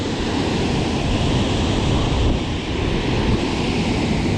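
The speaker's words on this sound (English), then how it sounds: "It's pretty windy over here." Strong wind roars steadily into the microphone while fishing downtown, a dense, constant rumbling rush with no breaks and no voices.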